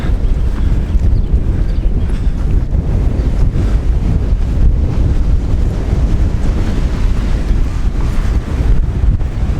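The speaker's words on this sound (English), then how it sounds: "God, I hope you can hear all this because this is windy." Strong wind buffets the microphone beside a harbour, a loud, continuous low roar with gusty rumbling that stays steady throughout, with no voices.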